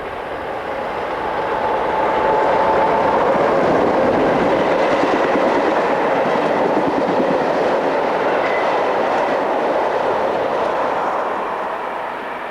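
SNCF BB12000 electric locomotive 12055 passes hauling dead BB15062 in tow near Chalindrey, France, in 1993: a steady rolling roar of wheels and rail that swells as the train draws near, holds loud, then eases slightly as it moves on.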